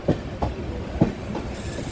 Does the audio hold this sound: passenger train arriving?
yes